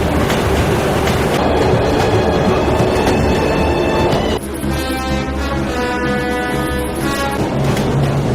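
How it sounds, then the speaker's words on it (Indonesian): A freight train rumbles along with heavy low roar and rolling rail noise, joined midway by a sustained tonal horn-like drone, loud and continuous with no talk. "Selanjutnya, Forel dikirim ke Chita dengan kereta barang sebagai tukang rem."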